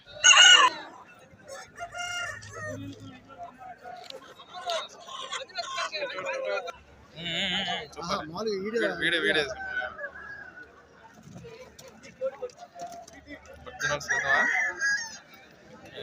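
Country chickens and roosters at the Nallapadu poultry market crow and cluck repeatedly, several loud crows standing out over a steady murmur of nearby people talking.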